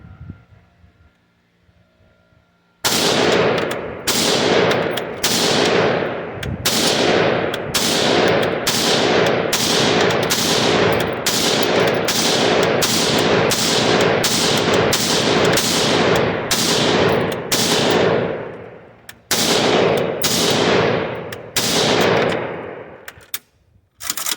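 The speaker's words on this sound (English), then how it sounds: "Shooting at the top target now." A Galil SAR rifle fires at steel targets outdoors: after a quiet start, roughly twenty loud, sharp shots come in a rapid, fairly even string, with a brief pause near the end before a few more.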